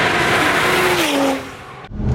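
Turbocharged BMW 135i convertible tuned to about 510 wheel horsepower pulls hard in fourth gear, a loud sustained engine roar with a rising whine before a brief dip and lift near the end.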